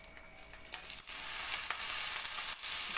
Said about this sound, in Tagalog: Ilagay na natin tong bawang, sibuyas, kamatis, saka siling haba.